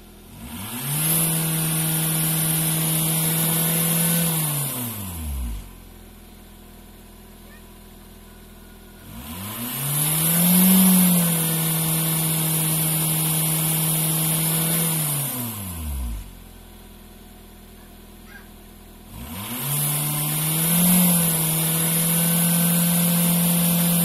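A Ford Mondeo Mk4 2.0 TDCi diesel engine is revved three times from idle, each rev climbing, holding for several seconds and dropping back to a low idle, loud and close.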